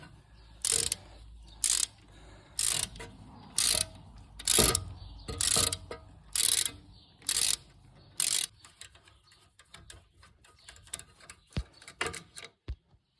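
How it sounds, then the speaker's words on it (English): A ratchet loosening the ABS sensor bolt on a VW Transporter T5 wheel hub: a series of regular, loud clicking bursts, each about a second apart, followed by lighter, quicker ticks and small metallic taps. "First we have to remove this little bolt which is holding it."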